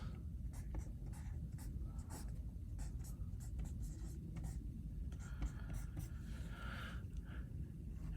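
Marker squeaking across a board while writing out an absolute value equation, a close series of short strokes and taps, with quiet talk underneath.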